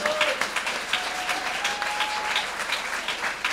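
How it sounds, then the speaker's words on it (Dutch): An audience at an awards event applauds, a dense steady clapping that fills the room for a few seconds at moderate level, with a faint tone running underneath. "applaus"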